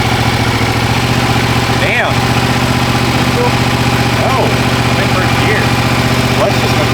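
A car engine idles steadily at a constant low rumble while a nervous learner handles a manual clutch in first gear, with people talking over the engine noise.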